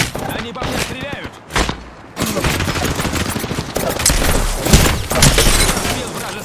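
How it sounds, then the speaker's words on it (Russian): Video game gunfire crackles in dense bursts across most of the clip, a loud fusillade with short pauses and sharp impact thumps, with speech mixed in. "Они по мне стреляют!"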